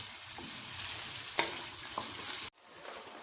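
Red beans (lal lobia) frying in spices in a pan, a continuous close sizzle with a few stirring scrapes, cut short by a brief drop before the frying resumes.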